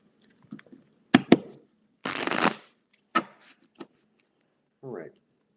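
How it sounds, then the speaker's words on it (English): Tarot cards are shuffled in a few sharp bursts: quick snaps, then a longer riffle, close and crisp, with brief quiet talk between. "Shuffle, shuffle."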